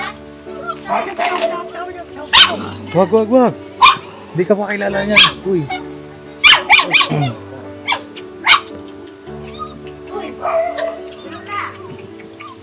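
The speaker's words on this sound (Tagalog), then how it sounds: "May tuta pa." Puppy barking in a series of sharp, close yaps scattered through the clip, mixed with children's voices and adult talk in a lively home setting.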